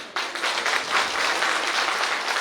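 Hall audience applauding at a Hindi-language education and training event with a minister, steady dense clapping that swells slightly and carries on without pause, fairly loud with no talk over it.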